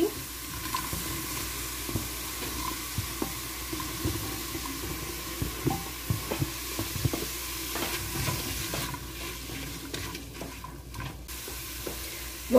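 Chopped bacon and onion frying together in a pressure cooker pot, a continuous crackling sizzle with intermittent scrapes and knocks of a spoon stirring, close and steady throughout.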